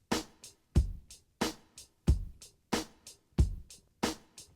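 Loose, unquantized drum pattern tapped out by hand on an MPC, kick and snare hits landing in a steady but slightly uneven groove, about seven strong hits with lighter ghost hits between, close and dry with no voices.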